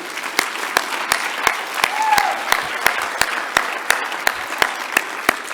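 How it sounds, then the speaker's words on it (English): An awards ceremony crowd at a national conference applauds its honorees, steady clapping with distinct sharp claps punctuating a softer wash of hands, with a few voices underneath. "Let's give a round of applause for the group."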